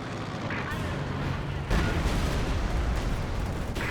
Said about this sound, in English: Maybe a mortar? Yep, mortar.